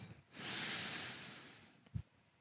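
A single strong breath drawn in and released during a balance exercise session for people over 50, a long airy exhale followed by a short sharp snort-like puff near the end, close and alone.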